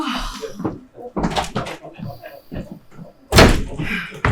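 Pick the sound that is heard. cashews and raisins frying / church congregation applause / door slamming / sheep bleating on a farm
door slamming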